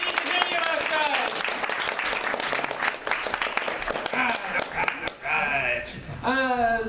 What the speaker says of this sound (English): Let's have another round of applause for Dirty Penny